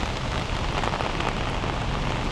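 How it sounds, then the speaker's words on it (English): Steady rain falls in Da Nang after Typhoon Bualoi, a continuous moderate hiss of drops on surfaces without pause or voices. "The rain is supposed to be easing off soon, probably in the next 2-3 hours."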